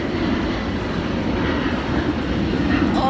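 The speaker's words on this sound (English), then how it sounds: "Oh my goodness, that's a huge airplane." A large airplane passes overhead outdoors, a loud steady low roar filling the whole moment with no break.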